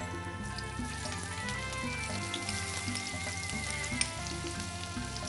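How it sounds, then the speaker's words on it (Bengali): Chopped onion frying in hot oil in a TV cooking-show kitchen, a quiet continuous crackling sizzle under background music, with no talk. "তেলটা গরম হয়ে গেছে, কি দেবো? প্রথমে দেবো পেঁয়াজ কুচি।"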